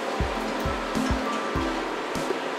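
Running water rinsing green grape tomatoes, a steady close hiss of flowing water with faint low thumps beneath.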